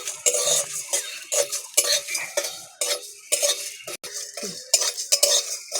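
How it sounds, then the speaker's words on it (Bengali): Whole garam masala dry-roasting in a dry pan without oil, stirred with a metal utensil: repeated scraping and clinking strokes, close and fairly loud, in uneven bursts with brief pauses and no talk. "গোটা গরম মশলা শুকনো খোলায় দিয়ে দিচ্ছি। হালকা করে ভেজে নেব"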